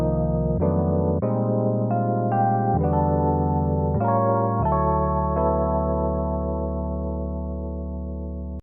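A bright suitcase-style Rhodes electric piano patch in Logic plays a slow run of sustained chords, close and clean, the last chord left ringing and fading out.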